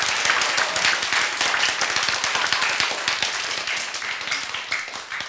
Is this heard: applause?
yes